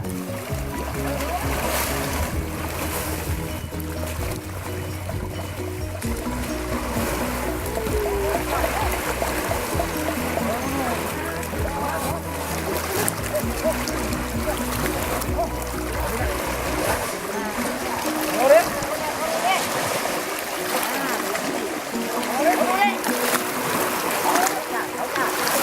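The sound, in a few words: elephants bathing and splashing in a river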